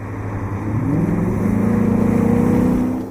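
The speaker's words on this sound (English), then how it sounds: "Now that's how an engine should sound." A Maserati GT's engine revs up loudly and steadily, its pitch climbing and holding in a deep, throaty roar for a few seconds with no talking.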